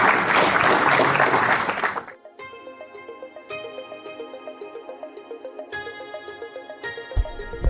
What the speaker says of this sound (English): Round of applause for Hunter.